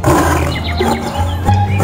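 A tiger roars loudly and close, a rough sustained growling roar with a brief break near the end, with no talking.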